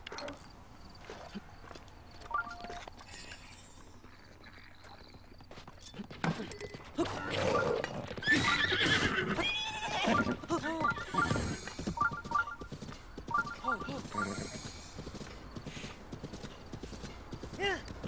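Horse whinnies and clip-clopping hooves from the video game Breath of the Wild, set among other game sounds and music, with a voice talking over parts of it.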